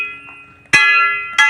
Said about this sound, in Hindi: घंटी लाग गए